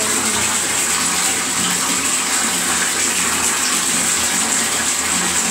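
Water gushes steadily from a tap into a bathtub being filled for a bath bomb, a loud, constant splashing roar heard up close with no talk.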